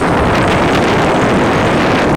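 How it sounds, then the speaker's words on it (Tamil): Strong cyclone wind from Cyclone Fengal blasts past the Kallady bridge in Batticaloa, a loud, harsh, unbroken roar hammering the microphone at close range, with no voices. "உங்களுக்கு காத்துட சத்தத்துக்கு கேட்கக்கூடிய மாதிரி இருக்கும்னு நினைக்கிறேன்."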